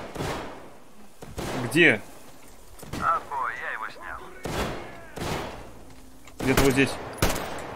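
Enemy sniper gunfire in the Metro Exodus game: several sharp, loud shots spaced irregularly, one around each second or two, with people talking between them.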